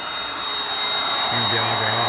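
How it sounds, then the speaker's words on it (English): A Bissell Adapt Ion cordless stick vacuum runs with its auger brush switched on, giving a steady close-up motor whine and airflow hum, with a low tone settling in partway through. "So if we turn it on, the auger's running"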